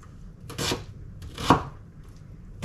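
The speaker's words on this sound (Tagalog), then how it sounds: "Pinuhin din natin yung ating sibuyas." A knife chops onion finely on a cutting board in a home kitchen, two distinct bursts of cutting strokes about a second apart, close and clear with no talking.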